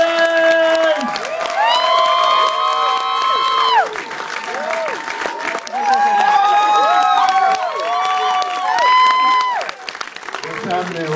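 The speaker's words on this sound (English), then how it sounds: "So clap your hands right now. Put your hands together." A live audience claps and cheers for comedian Marlon Wayans as he is introduced on stage, a dense, sustained roar of applause with shouts and whoops riding over it, loud and continuous throughout.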